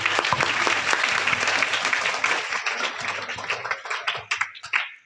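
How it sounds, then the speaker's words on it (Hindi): A school seminar audience in Badarwas breaks into loud, dense applause that swells for several seconds, then thins into scattered claps as it tapers off near the end. "जोरदार तालियां।"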